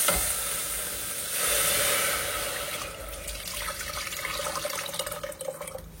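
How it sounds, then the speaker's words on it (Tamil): Tamarind water poured into a pan of sautéed masala for rasam in a home kitchen, a continuous gushing, splashing pour that settles into softer trickling, with no speech. "இப்போ இதுல வந்து பாத்தீங்கன்னா புளி தண்ணி கரைச்சி ஊற்றிக்கிறேன்."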